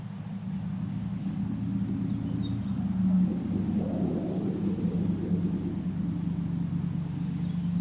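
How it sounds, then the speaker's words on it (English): Truck passing on a nearby road, a low rumbling drone that swells and fades with no talk over it. "I don't know how noisy that truck is going to be to the camera"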